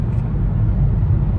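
Steady low rumble from inside a car on the road during a food delivery run, a constant engine and road drone with no talking.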